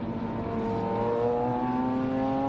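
Race cars at Phillip Island circuit accelerate, their engine note rising steadily in pitch as a loud, sustained roar with clear harmonic whine, uninterrupted and without speech.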